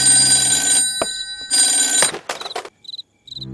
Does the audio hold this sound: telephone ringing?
yes